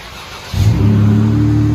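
A 2016 Jeep Wrangler V6 with a Borla Pro XS true dual exhaust fires up and settles into a loud, deep, steady idle rumble close by.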